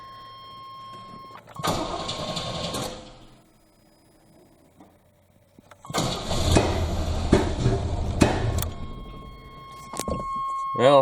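A 1987 Chevrolet S10 extended cab pickup engine cranks and catches in two loud bursts of rough running separated by a quiet gap, with sharp backfire pops near the end and a steady electronic tone underneath.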